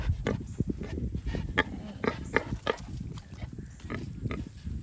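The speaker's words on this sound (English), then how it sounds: "I think this is the biggest pig I've seen in person." A pig grunts and snuffles repeatedly up close, short rough grunts in an uneven rhythm.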